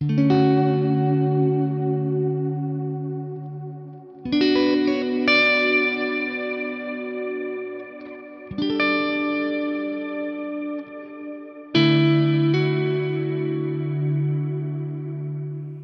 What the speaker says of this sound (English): If you're into big ambient style reverbs that aren't pitch shifted, I like the Stratocumulus.